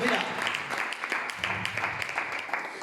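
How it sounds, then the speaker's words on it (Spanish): A church congregation applauds God during a Spanish-language sermon, a steady round of clapping that runs throughout, moderately loud and somewhat distant, with a voice over it. "Dale un fuerte aplauso a Dios si lo crees"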